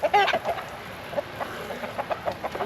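Backyard chickens clucking and calling near their feeding spot, several close, repeated clucks and short calls in an uneven rhythm, fairly loud with no voices.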